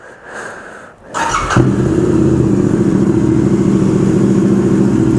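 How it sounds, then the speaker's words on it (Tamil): A GT 650 motorcycle with a Red Rooster exhaust cold-starts: a brief starter crank, then the engine catches and settles into a loud, steady, deep idle close by. "லைக் கோல்ட் ஸ்டார்ட்டில் இப்போ வந்துட்டு எப்படி சவுண்டு கேட்குது மட்டும் பாருங்கள்"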